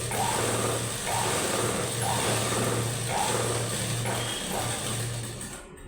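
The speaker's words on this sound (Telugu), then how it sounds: "ఇలా స్ట్రైట్గా కుట్టుకొని ఇక్కడ అటు ఇటు రాకుండా కుట్టేసుకొని ఈ పాదం వరకు కుట్టి" A sewing machine stitching a blouse runs in steady close-up bursts, a rhythmic mechanical whir and clatter that pauses briefly about every second, continuing without any talk.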